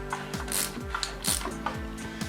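A hand ratchet clicks in quick, steady bursts while turning over a 350 small-block engine, a close, sharp mechanical clatter with no talking.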